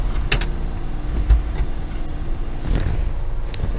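A Suzuki Carry mini truck with a stalling fault pulls away in first gear, its low engine rumble steady and close inside the cab, with a few clicks and knocks over the drone.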